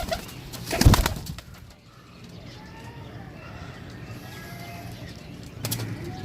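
Pigeons coo softly in a loft, a low murmuring under brief handling noises and a faint rustle of wings, fairly close.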